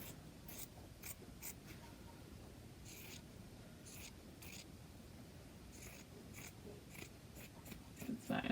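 Sewing scissors snip through fabric to cut off a chunk of material for Halloween ghost ornaments, giving a series of short, soft, close cuts spaced irregularly over a quiet low rumble.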